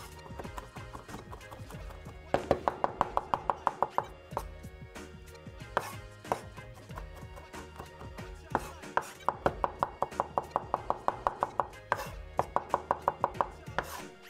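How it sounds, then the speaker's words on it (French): A knife chops crushed garlic finely on a board in quick rhythmic bursts of sharp taps, pausing between runs, close and crisp with no speech. "Après, on va écraser l'ail. On va le hacher le plus fin possible."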